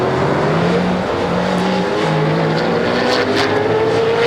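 Touring cars racing at the 1993 Sandown 500, a loud close engine roar holding steady with rising and falling pitch as cars pass, with no talk over it.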